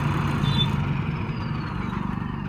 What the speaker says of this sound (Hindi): ये देखो सोलो रेस पे कितनी सिट्टी है